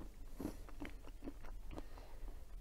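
A square of reproduction WWII ration plain chocolate, dusted with white bloom, is snapped into pieces by hand: several crisp, close cracks in quick succession against a quiet room.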